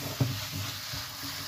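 Pasta being stirred in a pan with chili flakes and crushed black pepper, a soft sizzle with one brief scrape of the utensil near the start, close and fairly quiet.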